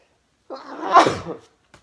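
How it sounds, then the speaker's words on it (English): A single sharp sneeze, close and loud, preceded by a brief inhale and followed by a small sniff, with no talking. "Sorry, I was going to sneeze."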